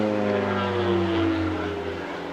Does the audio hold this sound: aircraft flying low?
yes